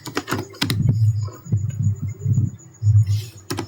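Keystrokes on a computer keyboard while entering router configuration commands, a close, irregular patter of clicks in short bursts with brief pauses between runs, no voices.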